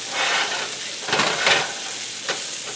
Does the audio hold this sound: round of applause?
no